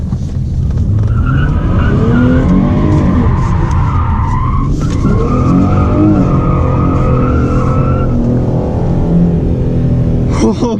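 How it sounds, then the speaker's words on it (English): A 2017 Dodge car fitted with an aFe Momentum GT cold air intake drifts through a turnaround, tires squealing and skidding in long, loud wailing sweeps over a steady engine roar, with no voices. "That was my first time ever doing any kind of like little drift, turnaround, whatever that was."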